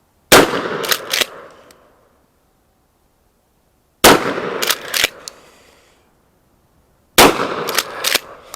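Remington TAC 14 shotgun firing Fiocchi low-recoil buckshot: three loud, booming shots spaced a few seconds apart, each followed by sharp echoing cracks and a decaying tail outdoors.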